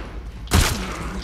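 A single sharp gunshot sounds in The Last of Us Part II, loud and close, with a brief echoing tail fading over the next half second.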